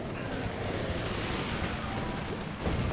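Bombing run explosions in the video game Guns Up, heard as a steady wash of rumbling blasts and crackling fire that stays dense and loud for the whole stretch.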